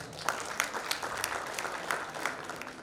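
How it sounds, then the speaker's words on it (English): Audience applause welcoming panelists onto the stage at a literature festival session, a faint, even wash of many hands clapping with a few sharper claps standing out. "Please welcome them with a big round of applause."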